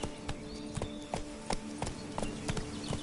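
Hooves of Roach, the horse in The Witcher 3, clop in a steady, even trotting rhythm, close and moderately loud against faint outdoor background.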